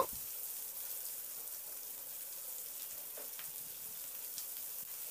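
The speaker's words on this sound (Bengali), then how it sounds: "এবার পেঁয়াজটা দিয়ে নাড়াচাড়া করে পেঁয়াজটাকে হালকা করে একটু ভেজে নেব।" Sliced onion fries with garlic in a pan, producing a faint, even sizzle with scattered light crackles, heard close with no voices.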